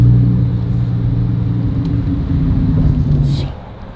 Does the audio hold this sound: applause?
no